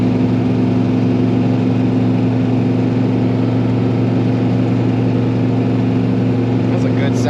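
A 1970 Dodge Super Bee with a 383 Magnum V8 and four-speed, cruising at about 3,500 rpm with a steady, droning exhaust note heard from inside the car.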